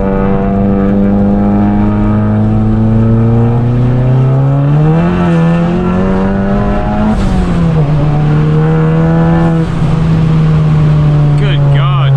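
VW Golf MK7 with a turbo accelerating hard, a loud, close engine drone that climbs steadily through the gears with brief shift dips and a turbo whoosh near the end, continuous for about twelve seconds.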